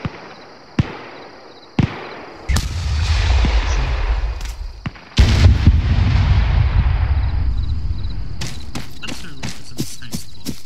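Heavy artillery guns in Arma 3 fire several loud, sharp blasts, each followed by a long rolling rumble, then a quick burst of closer reports near the end. No one speaks.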